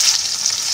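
Chopped onion sizzles steadily in hot oil with cumin seeds and bay leaf, a close, bright, continuous frying hiss with no talk.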